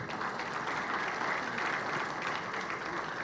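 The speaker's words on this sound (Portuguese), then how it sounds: "Uma salva de palmas." A round of applause from a seated audience welcomes a guest invited onto a business panel debate; continuous, even clapping throughout, moderately loud with no voices standing out.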